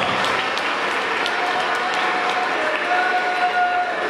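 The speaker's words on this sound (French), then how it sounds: "Est-ce que nous pouvons d'abord acclamer pour notre présence dans la salle? Acclamer très fort." A hall full of people at a Congolese community anniversary gathering in South Africa claps continuously, with faint cheering mixed into the steady, even roar of applause.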